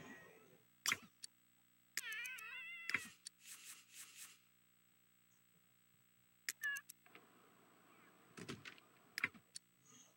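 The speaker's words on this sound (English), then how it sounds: "My kitty is back home." A pet cat returning home gives several short meows scattered between quiet gaps, heard close in a quiet room with faint clicks and rustling in between.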